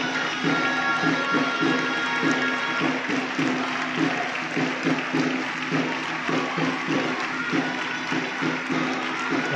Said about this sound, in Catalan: Ovació pels xiquets, esclar que sí, ben merescuda.